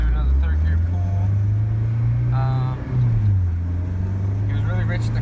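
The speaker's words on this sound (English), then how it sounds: "We're gonna do another third gear pull." A Honda CRX with an all-motor B17 engine runs a third-gear pull on a dyno, its engine note droning steadily and rising in pitch, loud and close, with brief voices and shouts over it.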